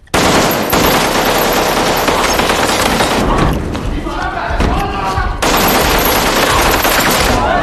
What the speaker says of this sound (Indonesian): 2 polisi ini pun langsung mendatangi Abdullah dan akan menembakinya